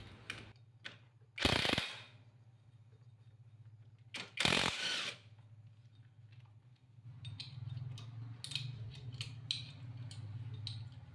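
Tools work on a Yamaha Jupiter Z motorcycle clutch during dismantling, producing quiet ratcheting clicks and metal clinks, two louder bursts of ratchet spinning, and a faint low hum underneath.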